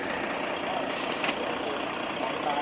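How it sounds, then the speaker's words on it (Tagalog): A truck pulls in at a cycling race venue in Jeddah, its engine a steady loud rumble with a brief hiss like an air brake midway, alone without talk. "Ayan, pumasok pa yung truck oh."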